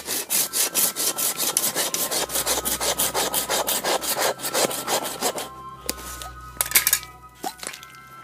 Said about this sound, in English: So I'm using just a little folding saw